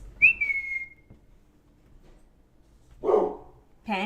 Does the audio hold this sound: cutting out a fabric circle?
no